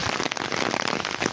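Heavy rain and hail falling in Kashmir on a morning, a dense steady patter and crackle of drops and stones hitting surfaces, loud and continuous with no voices.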